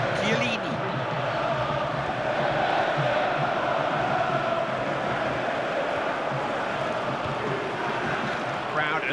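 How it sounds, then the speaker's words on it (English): A stadium crowd roars steadily throughout a simulated FIFA 14 World Cup match between the United Kingdom and Italy, a dense sustained wash of cheering with a match commentator's voice talking over it. "Crowd urging Italy forward."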